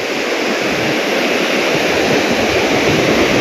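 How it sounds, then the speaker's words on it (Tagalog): Large ocean waves churned up by a storm roar in a broad, constant wash of surf, loud and close, with no talking. "Ay, doon talaga malalaking alon."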